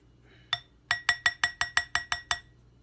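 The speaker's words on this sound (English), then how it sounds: "Give that a little stir just like that." A spoon stirs an ice cream bread batter dotted with chocolate and peanut butter chunks, knocking against a glass bowl: one tap, then a steady run of about nine bright, evenly spaced clinks, close and clear with no talking.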